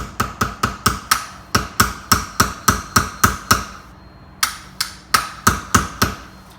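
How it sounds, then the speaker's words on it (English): A small hammer taps repeatedly on a steel sight to drift it into the dovetail of a Heckler & Koch VP9 pistol: sharp, close metallic strikes in quick runs with one short pause, no speech. "I'm getting my small hammer"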